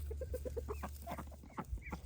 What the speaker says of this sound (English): This chicken's eating them.